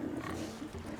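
In The Witcher 3 video game, a pig grunts and oinks briefly in a dense, rough burst amid steady game background noise.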